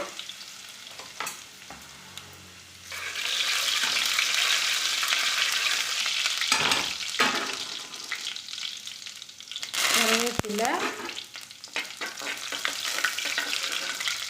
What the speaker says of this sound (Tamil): கடுகு பொறிஞ்ச உடனே நறுக்கி வச்சுருக்கிற பூண்டு